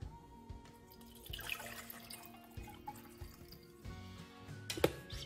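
Water trickles and drips into an ultrathin foldable kitchen appliance, a quiet steady pour with scattered splashes and a brief louder splash near the end.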